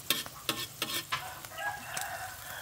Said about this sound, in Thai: ไข่มดแดงยังแตกแป๊ะแป๊ะอยู่